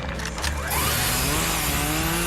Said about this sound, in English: There's a chainsaw sound when it's just on his face.